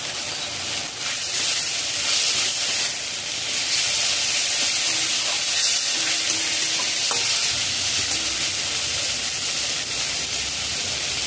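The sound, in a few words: chicken with meat masala being stir-fried in a pan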